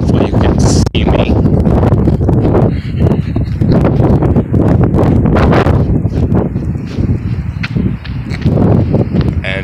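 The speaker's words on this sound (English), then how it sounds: "just when a big gust comes, you just gotta do that" Strong gusts of wind buffet the microphone outdoors during a run, a loud continuous roar with rushing surges, and a voice talking over it throughout.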